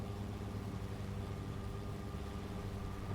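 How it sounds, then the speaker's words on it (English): Steady low rumble of a car engine held at high revs in the Jenny LeClue video game, continuous and loud with no pauses or talk. "Rev the shit out of that engine."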